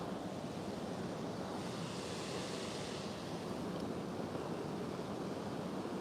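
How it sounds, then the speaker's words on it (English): Water roaring through the gates of a loch at Loch Ness, a steady, loud broadband rush with no breaks, like heavy surf, heard up close with no talk. "this roar of this water that's coming down that through the gates there"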